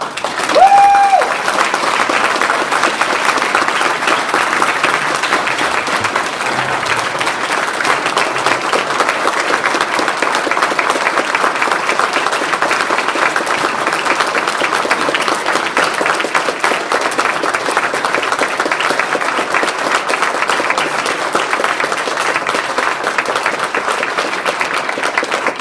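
At a Sigma Phi Epsilon Founders Day banquet, a large audience applauds the award winners, a loud dense wall of clapping that holds steady for the full stretch with no letup.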